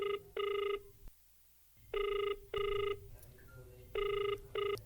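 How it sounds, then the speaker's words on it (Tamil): A telephone rings in repeated double bursts, loud and close, with short gaps between the pairs of rings and a quiet stretch partway through. "சரி மாமாக்கே ஃபோன் போட்டு கேட்ட வேண்டியதான்."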